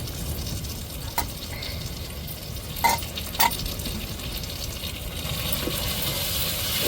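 A stone-ground paste of ginger, garlic, shallots and coriander is sautéed for a chicken gravy, producing a continuous, fairly loud sizzle with a few sharp clinks from stirring, close by and with no talking.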